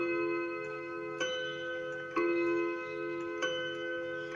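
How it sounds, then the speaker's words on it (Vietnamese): Chime rods of a German wall clock ring out in a double ding-dong strike, three resonant hits roughly a second apart with long sustained tones in a quiet indoor space. "Một tiếng đính, một tiếng đong"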